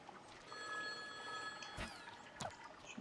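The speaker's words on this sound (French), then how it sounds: "Et il y a un téléphone qui sonne." Telephone ringing in the video game The Wild at Heart, a faint electronic tonal ring heard a few times at low level over soft ambient water and movement sounds.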